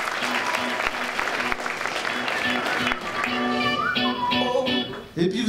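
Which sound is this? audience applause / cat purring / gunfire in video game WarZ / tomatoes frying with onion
audience applause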